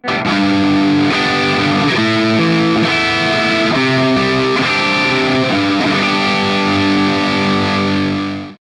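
A Charvel Guthrie Govan Flame Maple Top signature electric guitar played through heavy distortion, ringing sustained chords that change several times before fading out, loud and continuous with no voices.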